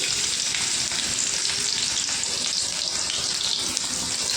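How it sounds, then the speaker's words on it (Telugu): Sliced onions frying in hot oil in a kadai for a tomato masala charu tempering, a steady, close, loud sizzle that holds unbroken throughout, with faint splashy crackle and no voices. "కడాయిలో నూనె వేడెక్కింది ఉల్లిపాయలు వేసుకుందామండి"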